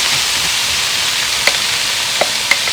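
Frozen riced cauliflower hitting a hot pan with garlic gives a steady broadband sizzle, with a few sharp clinks of a utensil against the pan near the end and no talking.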